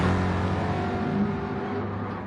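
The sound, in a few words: Ford touring car engines revving in a racing video game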